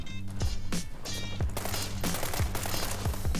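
Rapid bursts of M416 rifle fire from the video game World War 3, loud and close, with several sharp volleys and single cracks spread through the stretch over dense battle noise.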